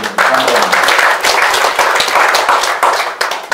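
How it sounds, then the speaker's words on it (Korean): A room full of people at an international diplomacy and security forum claps steadily, brisk and close, a busy patter of hands that carries on throughout. "우선 박수 한번 해주세요."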